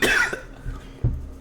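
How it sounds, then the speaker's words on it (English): A single harsh cough from someone feeling unwell, close and loud, followed by a couple of weaker throaty bursts before it fades. "every time I cough"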